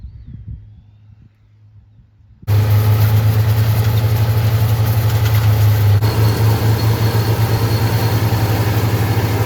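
A vintage IH 1066 tractor engine runs while drilling soybeans, starting after a quiet opening with a loud, steady low rumble and chugging throb that stays constant and close.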